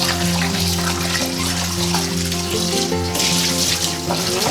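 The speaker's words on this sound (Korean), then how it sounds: "이제 다음은 떡을 씻어서 좀 불려 놓을게요" Tteok rice cakes rinsed in a kitchen sink under running tap water, a steady splashing hiss with background music playing throughout.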